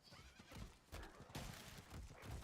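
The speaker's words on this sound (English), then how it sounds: "Have you seen people complain about the annoying loud sound when you get on your horse?" Horse neighing and whinnying loudly as a rider mounts in Diablo IV, with clip-clop hoofbeats and several whinny bursts over busy game ambience.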